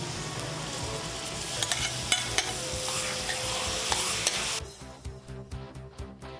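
Garlic, onion and chicken sauté in a pan, a dense continuous sizzle with stirring scrapes and clinks, then the frying cuts out to a few sharp taps and faint rustling.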